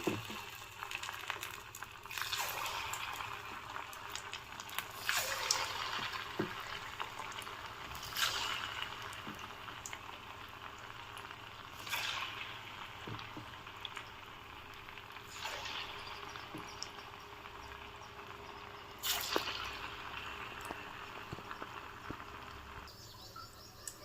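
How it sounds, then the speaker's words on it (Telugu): Challa punugulu bondas fry in hot oil in a kadai over a low flame, giving a quiet, steady bubbling sizzle with occasional soft pops and brief louder surges. "సిమ్లో పెట్టుకొని బోండాలు ఇలా వేపుకున్నాను"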